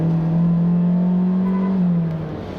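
A 2017 Kia Forte S four-cylinder engine drones steadily under acceleration, a strong low hum with a slowly rising pitch that eases off near the end, loud and close with no talking.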